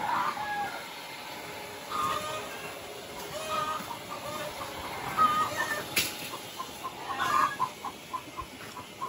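Two chickens clucking and calling nearby while being fed, soft intermittent clucks and short squawks over a quiet outdoor background.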